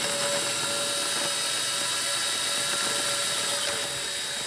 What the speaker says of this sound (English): So now we'll just hit it with a carbide burr just to clean it up.